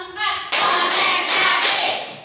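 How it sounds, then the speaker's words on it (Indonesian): In a classroom during an Islamic faith lesson, a class claps in a counted rhythmic pattern of sharp grouped bursts. A voice leads briefly before the clapping begins. "Tepuk 1. Tepuk 2. Tepuk 3."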